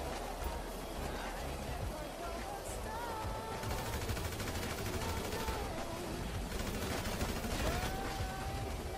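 Gunfire during a GTA V heist mission, bursts of shots and rapid automatic fire crackling steadily over a busy game background, with people talking over it.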